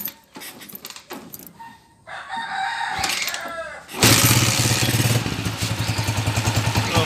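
A 19-year-old TMX155 motorcycle with a leaking block gasket starts, then idles with a steady, loud pulsing putter. Roosters crow and a voice is heard nearby before the engine settles.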